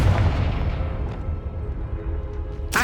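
A Confringo spell explosion from Hogwarts Legacy booms loud and deep up front, its low rumble fading gradually before a sharp burst cuts in at the very end.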